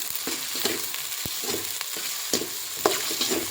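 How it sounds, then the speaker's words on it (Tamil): Onions sauté in a pan for a dried fish curry, with a steady close sizzle broken by regular scraping and clinking stirs of a spatula. "வெங்காயம் நல்லா வதங்கிட்டு இருக்கு"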